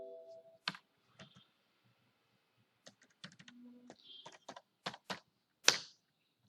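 Keys clatter on a computer keyboard as data is entered into an Excel spreadsheet, coming in short irregular bursts of close, crisp clicks with brief pauses between.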